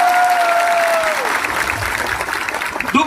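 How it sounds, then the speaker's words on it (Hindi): A gathered audience at a political event bursts into steady, loud clapping, many hands at once with a brief whistle-like tone early on. "ताली मारो उसके लिए।"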